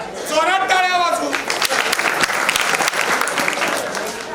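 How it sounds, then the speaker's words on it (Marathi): Audience at a jewellery shop lucky draw event bursts into loud, sustained applause, many hands clapping close and dense after a voice at the start, continuing steadily to the end. "जोरात टाळ्या वाजवू"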